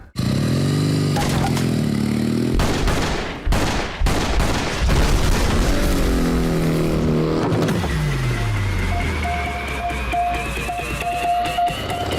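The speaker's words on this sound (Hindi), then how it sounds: "इस पे 5 राउंड चलाना, और इसके लिए तो गोलियों की आवाज ही काफी है।" A burst of gunshots, several sharp cracks in quick succession, rings out in a tense action-film scene, tangled with loud revving car engines that surge and whine throughout.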